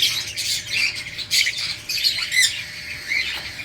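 Pet parakeets squawk repeatedly, sharp harsh calls coming in quick irregular bursts close by, with no talking.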